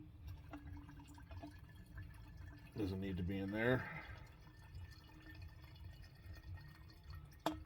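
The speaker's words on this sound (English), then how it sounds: "I'm gonna pour this fuel out" Fuel trickles out of a small engine's tank in a quiet, thin pour beneath a brief spoken remark, the liquid sound faint and close.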